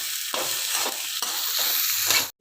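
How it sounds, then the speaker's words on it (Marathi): Sabudana khichdi with salt added sizzles steadily in a frying pan, with a spoon scraping and stirring through it in repeated strokes, loud and close. "आणि छान फ्राय करून घेऊया."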